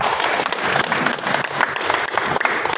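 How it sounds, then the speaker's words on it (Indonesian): Steady applause from a village community gathering fills the whole stretch, a dense continuous patter of many hands clapping nearby. "Tepuk tangan."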